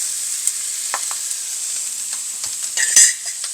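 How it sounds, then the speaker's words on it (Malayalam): Chopped onions with salt being sautéed in a pan for green tomato thoran, giving a steady soft sizzle with occasional stirring scrapes and a brief louder clink near the end, close by. "മൂത്ത് കഴിയുന്നുണ്ടെങ്കിൽ നമ്മൾ അരിഞ്ഞു വെച്ചിരിക്കുന്ന ഉള്ളി നമുക്കിടാം."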